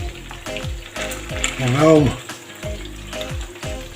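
Stuffed chicken drumsticks with cheese sizzling and crackling in a hot pan, with rhythmic stirring or scraping strokes and a brief spoken voice over it.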